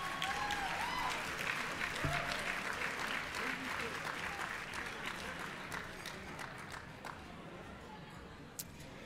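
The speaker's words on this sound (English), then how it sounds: "Another round of applause for our honorees tonight." An audience at an alumni association gala applauds its honorees, a dense sustained clapping that fills the room and slowly thins toward the end, with a few stray voices mixed in.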